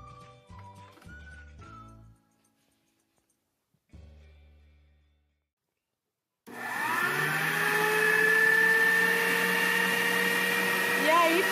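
Soft music plays briefly, then after a pause an electric mixer starts whipping instant coffee into a creamy coffee. Its loud, steady motor whine runs without a break to the end.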